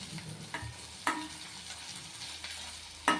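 Small dried mettallu fish frying in a little oil for gongura curry, a close, steady sizzle broken by a few louder stirring scrapes and crackles, with no voices.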